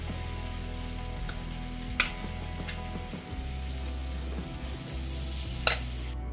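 Butter melting and sizzling in a pan for butter chicken, a low, steady frying hiss with a couple of faint utensil taps, no voices.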